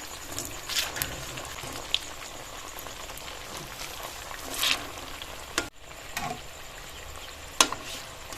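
Rice flour pocket singara frying in hot oil, a soft steady sizzle with occasional sharper crackles and a few louder spatters and pops scattered through, fairly quiet and without speech.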